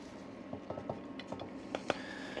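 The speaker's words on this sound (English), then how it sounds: "so I'm going in the Lodge cast iron skillet here" Stuffing is spooned into a Lodge cast iron skillet, giving a series of soft, close taps and scrapes of a utensil against metal at an irregular rhythm, quiet and without talk.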